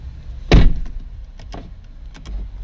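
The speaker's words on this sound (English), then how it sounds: "close the door." A Porsche Cayenne door shuts with one solid, close thud, followed by a few faint clicks and light mechanical taps inside the car, with no voices.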